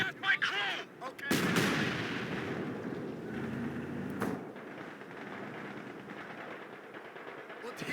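Battle din from the Company of Heroes 2 strategy game: a sharp burst of gunfire, then a heavy artillery blast rolling into a sustained roar, with another crack around four seconds in, loud and close with no speech.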